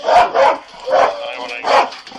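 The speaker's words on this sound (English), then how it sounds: "We're gonna send that dog in." A police K-9 barks in loud, close bursts during the execution of a felony arrest warrant, three or four sharp barks spaced about half a second to a second apart, with officers' voices mixed in.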